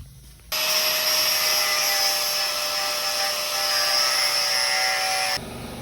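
Cutting metal bars out of a Chevette body with a power tool: one steady, loud, high-pitched grinding whine of about five seconds, close by, starting and stopping abruptly.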